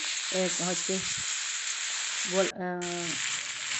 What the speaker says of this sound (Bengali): এবার চিকেনটা দিয়ে একটুখানি নেড়ে নিচ্ছি